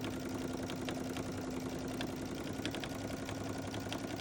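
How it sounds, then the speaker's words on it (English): A sewing machine stitches stretch fleece joined to upholstery fabric, giving a steady, continuous motor whir with a constant low hum and faint ticking of the needle throughout. "you put the lever back down, and you continue sewing"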